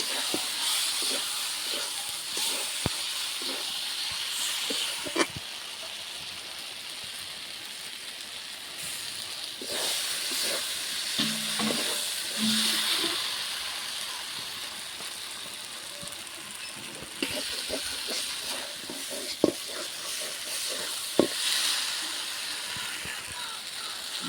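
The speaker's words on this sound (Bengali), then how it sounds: "মশলা ভালো করে কষিয়ে নিয়েছি, ডিম দিয়ে আর একটু কষাবো।" Eggs fry in a spice masala for an egg curry, giving a continuous close hiss and sizzle with occasional clicks and scrapes from stirring.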